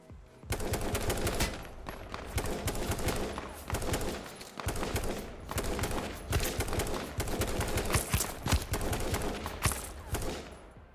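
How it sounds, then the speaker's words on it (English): Rapid AK rifle fire in the H1Z1 video game, sustained bursts of loud automatic gunshots crackling one after another with brief gaps, no voices. "Looks like we'll have to go with the AK probably."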